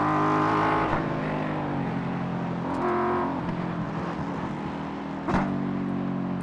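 A race car in the iRacing sim pulls out of the pit lane, its engine a steady droning whine that climbs and settles through gear changes, loud and continuous with no voices.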